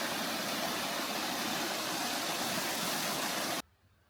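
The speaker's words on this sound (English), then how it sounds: "the waterfall is flowing after all the rain we had last night" Rainforest waterfall running full after a night of heavy rain, a loud, steady broadband rush that continues unbroken for over three seconds and then cuts off abruptly.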